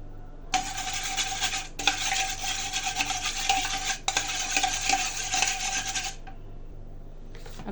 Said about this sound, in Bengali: টক দই দিয়ে আর টমেটো সস দিয়ে ভালো করে মিশিয়ে নিব